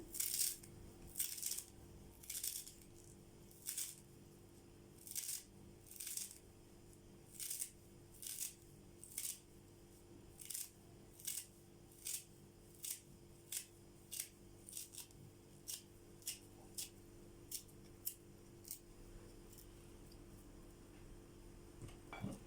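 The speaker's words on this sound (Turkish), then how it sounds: "Dereotu doğrayacağım arkadaşlar" Repeated crisp knife cuts through dill on a board, steady and quick, around twenty sharp snips over a quiet background with a faint hum.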